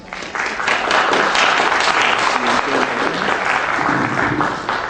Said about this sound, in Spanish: Recibamos con un fuerte aplauso al doctor Alfredo Lobón Sánchez